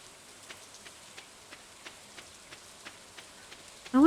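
Steady light rain from the Stardew Valley video game, a soft, faint patter with small drops ticking at a regular pace, and a brief louder sound cutting in at the very end.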